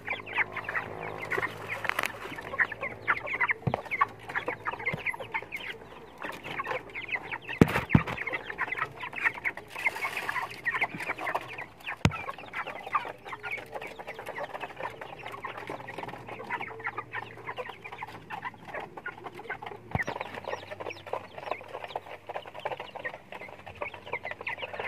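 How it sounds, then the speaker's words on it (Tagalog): A mother hen clucks near her two newly hatched chicks beside the egg nest on a backyard poultry farm, her steady calls mixed with surrounding fowl sounds and farmyard noise throughout. "Ito yung inahin dun sa labungan ng itlog"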